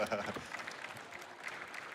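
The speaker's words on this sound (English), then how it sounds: "Clap your hands if that's happened to you." Scattered applause from a crowd, fairly soft and distant, a steady patter of many hands clapping.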